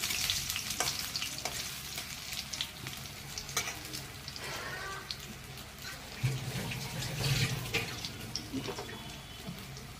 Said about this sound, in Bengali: এগুলো এক এক করে ভেজে নিয়ে যাবে।